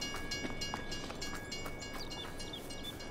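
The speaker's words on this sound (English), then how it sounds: "the train has now come to a stop" A train in Farming Simulator 22 rumbles steadily with faint metallic clicks and squeals, a continuous moderate rolling noise.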